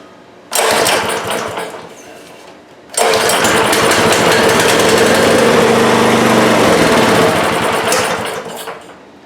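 Small Husqvarna tiller engine after fuel is poured into the carburetor: a loud, buzzy high-revving run that starts abruptly, cuts out after a couple of seconds, then restarts and holds steady for about six seconds before fading slightly.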